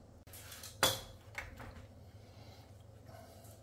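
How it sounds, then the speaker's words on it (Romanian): A knife cuts through fresh mackerel on a cutting board, giving one sharp close chop followed by a softer knock and faint scraping in a quiet kitchen. "Hai să tăiem și peștele."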